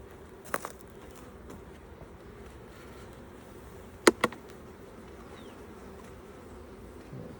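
Honey bees hum steadily around an opened hive during a Demaree split with queen excluders, a close, continuous drone with a couple of brief knocks from hive equipment.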